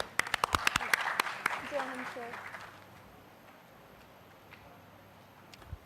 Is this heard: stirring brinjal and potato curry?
no